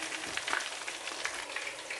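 Fish frying in hot oil for white riz gras gives off a steady, close crackling sizzle with small pops throughout, and no voices.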